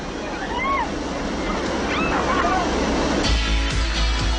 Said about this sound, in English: a flash flood in Catastrophe Canyon, water helps bring the story to life